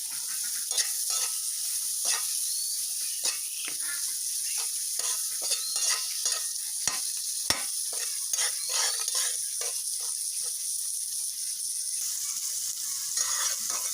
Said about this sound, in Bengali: এইভাবে ভালো করে এই মাছের মাথাটা ভেজে নেব